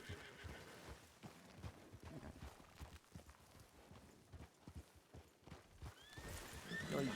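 Horses in a Red Dead roleplay video game whinny and neigh repeatedly over steady clip-clopping hooves, with a loud, shrill whinny rising near the end; no talking.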